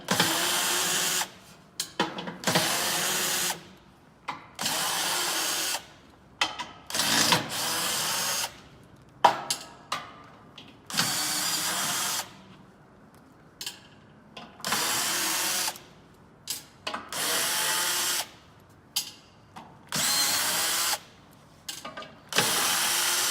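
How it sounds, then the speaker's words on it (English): A power drill with a 10mm socket drives bolts in repeated short bursts, revving up and stopping again and again, with brief ratcheting and clanking between runs, close by. "I'm using a drill with a 10mm socket in this case."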